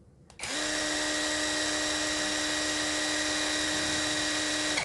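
A Kamolee 20V cordless impact driver spins up sharply at high speed and holds a steady, loud, high-pitched whine with a constant tone for about four seconds before cutting off, with no talk over it.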